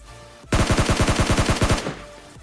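Rapid burst of automatic gunfire finishing off a knocked enemy in PUBG Lite, about fifteen loud, evenly spaced shots in a row lasting just over a second, then a short fading tail.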